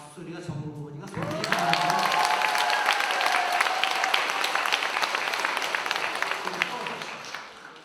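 A Catholic parish congregation at the Easter Vigil Mass breaks into applause after a voice speaks, a dense sustained clapping that swells quickly, holds loud with some tonal voices under it, then gradually fades.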